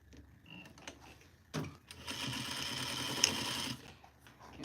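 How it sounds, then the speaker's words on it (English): A sewing machine sews the side seams of an unpinned duster garment, starting after some faint handling noise and then running as a steady, fairly quiet whir for a couple of seconds. "next we're gonna sew the sides together"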